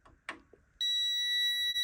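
A faint click or two, then a steady high-pitched electronic beep from a continuity tester, probe on a Clarke 151TE MIG welder's chassis, sounds continuously and clearly until the end.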